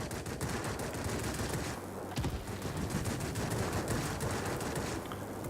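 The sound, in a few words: F4U-4 aircraft guns firing, from video game World of Warplanes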